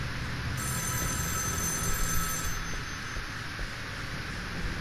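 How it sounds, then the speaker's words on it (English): A telephone rings in the live-action mystery game Erica, with a high, steady electronic trill lasting about two seconds over a dense rumbling background that continues afterward. "Pearl, you act like you ain't never heard a phone ring"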